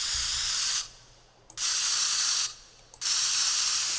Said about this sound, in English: look, we got a spray can